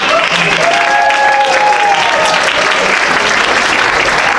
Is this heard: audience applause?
yes